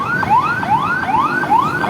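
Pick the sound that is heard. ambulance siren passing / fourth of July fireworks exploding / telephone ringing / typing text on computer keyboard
ambulance siren passing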